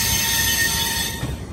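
A train passes close by near Chennai Central railway station, loud and continuous, with high steady wheel squeal over a rumbling roll that eases slightly toward the end.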